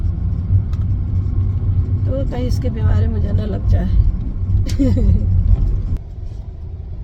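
Steady low engine rumble and road drone fill a car cabin while driving, with someone talking over it throughout and the noise dropping slightly near the end.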